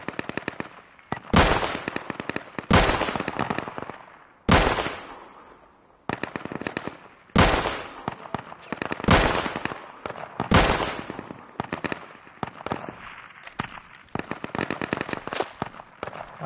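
Gunfire from a sniper in the video game Deadside, heard as loud, sharp shots cracking every second or two over a continuous rattling background of rapid fire, with the shots at varied distances.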